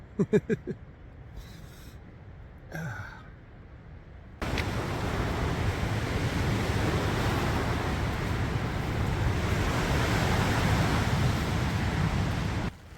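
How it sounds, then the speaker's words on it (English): Loud, roaring wind gusts buffet a tent steadily for most of the clip, starting abruptly after a few quieter seconds with brief rustling and faint movement, at Wreckhouse, Newfoundland. "But pretty good wind gusts right now."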